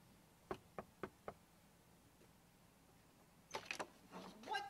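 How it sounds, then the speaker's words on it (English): Four quick knocks on a building door, faint and evenly spaced against quiet room tone, followed a few seconds later by a cluster of further knocks and rattling as the door opens. "Knock again."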